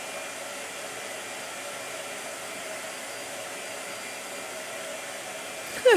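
A blow dryer runs at a steady, faint, even whoosh throughout, with a brief louder sweep of sound at the very end.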